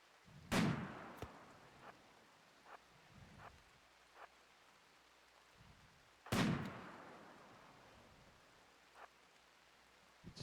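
Two loud, sharp sniper shots from the colony video game Rimworld, several seconds apart, each followed by a decaying echo, with faint scattered ticks and a quiet background between them.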